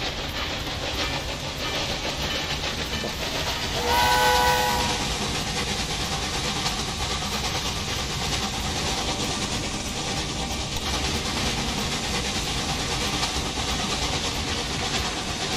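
A train runs along a railway line in the game Railway Empire 2, a continuous rumbling roll with rhythmic wheel clatter, and a short horn blast partway through, steady and fairly loud throughout.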